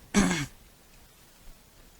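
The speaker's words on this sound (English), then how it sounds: "I had to clear my throat again" One short, loud throat clearing close by, followed by quiet room tone.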